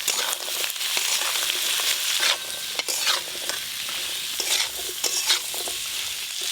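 Jackfruit seeds and cut potatoes frying with chopped onion and whole-spice tempering in a pan, a steady close sizzle broken by repeated scraping stirs of the spatula, with no voices.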